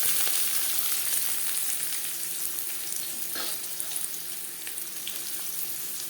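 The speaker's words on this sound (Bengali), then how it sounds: "পেঁয়াজ ভেজে নেব" Onions fry in a pan over a lit gas flame for a savory semolina dish, giving a steady, close sizzle that holds without a break and with no voices.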